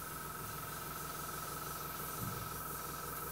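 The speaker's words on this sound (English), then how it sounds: "You see how it sprays very nicely straight out of the bowl?" An airbrush sprays thinned acrylic hobby paint in a steady, soft continuous hiss close by, with no voices.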